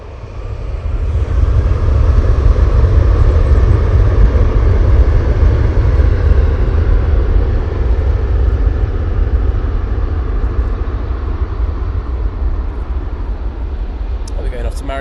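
A Ryanair airliner taking off at Manchester Airport, a loud, close jet roar with heavy low rumble that swells within the first seconds, holds strong and then eases slightly toward the end.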